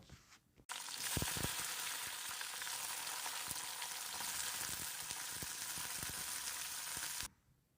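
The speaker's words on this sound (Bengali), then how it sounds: "কালো জিরিটা দেবার পর দিয়ে দিচ্ছি কেটে রাখা ক্যাপসিকাম আর টমেটোগুলো" Chopped capsicum and tomatoes hit hot oil tempered with black cumin, bursting into a loud, steady sizzle with occasional stirring knocks that runs for several seconds and then cuts off abruptly.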